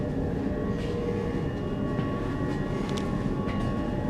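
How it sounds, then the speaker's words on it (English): Steady low rumble and drone inside a moving passenger train, with faint high tones and soft clicks over a constant hum and no voices. "I rather like these trains"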